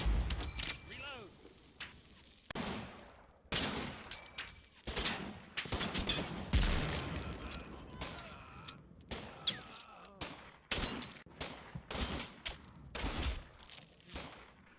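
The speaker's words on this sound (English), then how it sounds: "potshots are being taken at stragglers on the other side of the field" Scattered gunfire in the World War II video game Combat Mission Battle for Normandy, with troops firing around trenches, bunkers and a field: repeated sharp shots and short bursts, some loud, others softer and more distant, with no speech.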